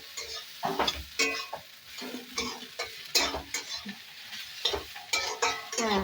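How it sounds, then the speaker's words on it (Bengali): Sliced banana stem frying in a pan with a little turmeric, sizzling steadily while a spoon stirs and scrapes the metal in irregular bursts, close and moderately loud with no talk. "আর একটু ভাজা ভাজা করবো।"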